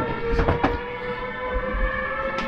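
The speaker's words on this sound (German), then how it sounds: "Der Scheißzug steht hier schon." A train stands at a station in winter cold, giving off a steady mechanical hum with sustained tonal drones and a few brief hissing bursts of air.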